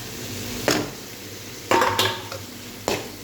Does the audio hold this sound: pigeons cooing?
no